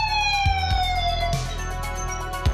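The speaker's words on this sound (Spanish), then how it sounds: "aparece un patrullero policial y sin saber lo que está pasando, hace sonar su sirena." A police patrol car siren wails loud and close, sweeping steadily in pitch, with a few low thumps along the way and no talking.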